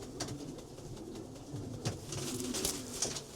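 A short stretch of racing pigeons cooing inside a loft, soft overlapping low coos from several birds with a couple of brief scuffs, no voices.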